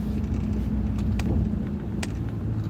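A car idles close by with a steady low engine rumble, broken by a couple of brief sharp clicks or knocks as it is left parked outdoors on a farm in the morning.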